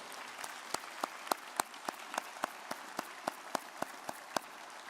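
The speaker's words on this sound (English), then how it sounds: "a round of applause" Graduation audience applauding parents and loved ones, heard as a sparse, slightly distant round of individual claps with sharp, irregular hand strikes and no talking.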